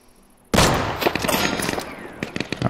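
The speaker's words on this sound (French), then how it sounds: "Ça tire des bois." Burst of gunfire erupting from the woods in the video game Deadside, a loud sudden volley followed by a dense run of rapid overlapping shots and echoing cracks that continue to the end.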